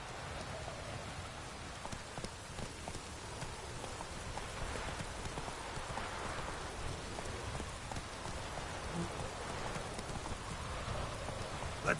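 In Witcher 3, the horse Roach gallops through a rainstorm: a dense, steady patter of rain covers soft, rhythmic hoof clops throughout, with no talking.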